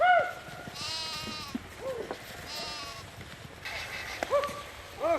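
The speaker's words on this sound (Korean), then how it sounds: "당황한 양 염소들이 우왕좌왕" A flock of sheep and goats bleats repeatedly in a rocky Mongolian valley during a winter nomad migration, several animals calling near and farther off over a low windy outdoor background.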